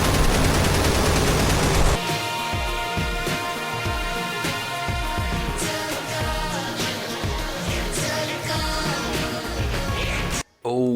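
Heavy gunfire from big guns in the twin-stick shooter Enter the Gungeon blasts over game music, a busy stream of repeated shots and impacts that continues throughout, loud and dense.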